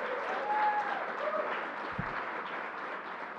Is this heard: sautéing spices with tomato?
no